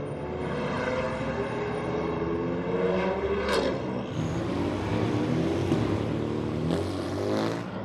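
A Ford Mustang GT4 race car snarls past during a sprint race at COTA, its engine a loud rising and falling rasp mixed with the roar of other race cars. The pitch shifts as the cars pass, and nobody speaks.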